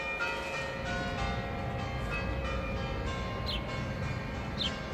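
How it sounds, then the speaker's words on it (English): Church bells ring out across Jerusalem's Old City near Jaffa Gate, a steady wash of overlapping tolls layered over busy street noise, with a couple of faint high bird calls breaking through near the end. "Bells is singing and the birds also flying around here"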